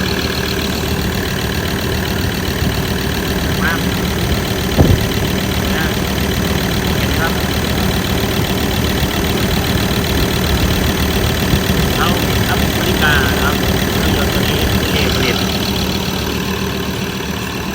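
A Ford Everest 3.2 engine, newly replaced, idles close by, a constant droning rumble with faint ticking and no break for the whole stretch.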